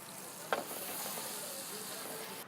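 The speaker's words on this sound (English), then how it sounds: "And then I'm putting them straight into this hot butter, which will actually toast them up" Potato gnocchi sizzle as they fry in hot butter, a steady bright crackling hiss with a small splash as they go into the pan.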